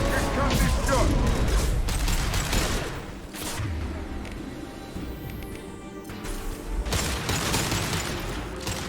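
Heavy weapon fire and booming shots from Mass Effect 2 combat crash loudly at the start and again near the end, with quieter mechanical noise and voices between the bursts.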